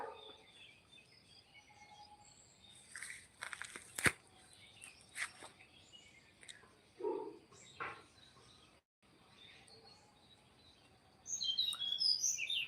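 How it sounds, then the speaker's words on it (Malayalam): Faint morning bird chirps and calls scattered through a quiet outdoor scene, with a brief burst of twittering near the end. "കിളി ഇഷ്ടം പോലെ ഉണ്ട് കേട്ടോ"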